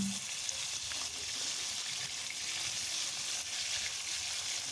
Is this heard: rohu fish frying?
yes